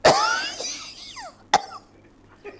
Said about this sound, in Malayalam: എല്ലാവർക്കും ചുമ.